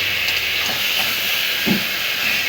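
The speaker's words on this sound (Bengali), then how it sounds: "দেখুন, মাটনটা আমি কষিয়ে নিচ্ছি।" Mutton sautés with cumin in hot oil, giving a loud, continuous sizzling hiss with a few faint stirring scrapes, close up and without talk.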